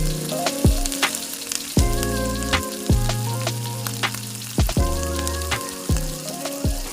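Onion and tomato frying in a pan for a green chilli egg curry: a steady close sizzle runs throughout beneath loud tonal background music, with no voices.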